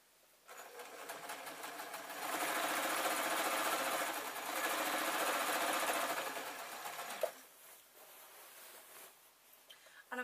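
A sewing machine runs a long steady stitching burst on a jelly roll quilt with beige thread, close and humming evenly for several seconds before slowing to a stop and a few lighter mechanical clicks.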